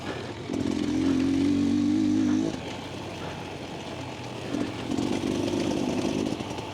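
During an off-road endurance race, another rider's motorcycle engine buzzes close by at high revs, drops away, then rises again, heard over the rider's own engine and rough terrain noise.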